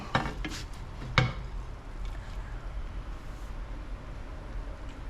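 A slice of egg skillet, cooked in a round pan, is set onto a plate with a couple of sharp clinks of utensil and dishware early on, then quiet kitchen background.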